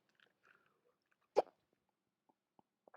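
A woman's hiccups break a quiet indoor livestream scene: one sharp, close hiccup stands out amid faint small mouth and body sounds, followed by a few softer clicks.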